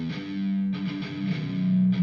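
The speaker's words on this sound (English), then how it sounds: "the song kind of starts with that guitar riff recorded on its own in a kind of simpler, less heavy way" Short electric guitar riff played alone in a simpler, less heavy style, mildly distorted, with a few chunky picked notes and chords at steady volume.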